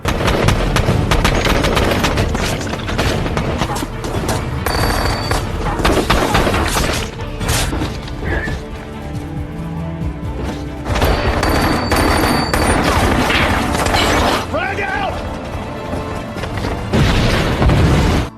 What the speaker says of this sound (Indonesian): lagi-lagi mereka harus beradu senjata dengan para teroris